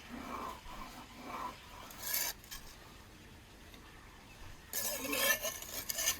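Red and white peppercorns are ground by hand outdoors for a wilderness meat dish, making short, gritty rasping bursts in an uneven rhythm that are moderately close and fairly faint.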